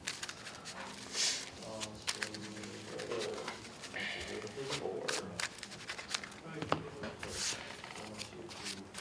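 Magic: The Gathering cards are shuffled at a Friday Night Magic game, giving repeated quick riffling and flicking bursts, close and crisp, while players talk over them.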